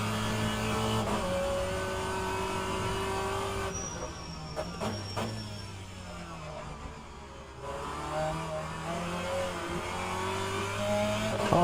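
A loud touring race car engine in the game rFactor 2 drones and revs continuously at Sebring, pitch rising and falling as it accelerates and shifts, with a brief dip in the middle.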